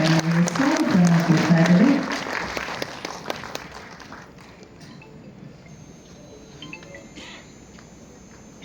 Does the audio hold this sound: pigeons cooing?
no